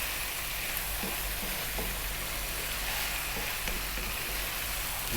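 Turmeric, chili, cumin and coriander powders fry in hot oil for a beef mushroom masala curry, a steady close sizzle with faint stirring taps and no talk.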